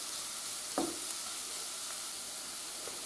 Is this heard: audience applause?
no